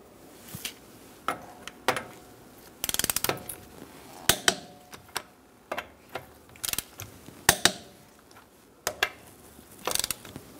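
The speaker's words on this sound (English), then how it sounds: "Using a 19mm socket, we're going to torque our wheels to 100 foot-pounds." Ratchet wrench with a 19mm socket torquing the lug nuts on a 2012-2018 Ford Focus front wheel, a series of short sharp clicking bursts spaced irregularly, close and clear with no talk.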